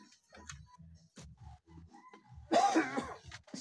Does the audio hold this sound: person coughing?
yes